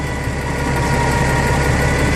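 A loud, close transit bus engine idles with a steady low throbbing rumble and constant mechanical vibration throughout, no speech.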